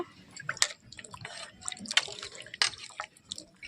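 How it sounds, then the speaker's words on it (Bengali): Cut figs rinsed in water, with irregular drips and small splashes of liquid close by, soft and steady over a few seconds, no talking. "ভালো করে জল দিয়ে আমি 2 বার ধুয়ে দেব।"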